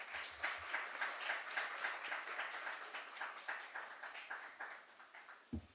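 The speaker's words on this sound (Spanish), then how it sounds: "Damos fuertes aplausos a nuestras ponentes." Audience applause for speakers at a psychology students' colloquium opening panel, a rhythmic patter of clapping at moderate distance that gradually thins out.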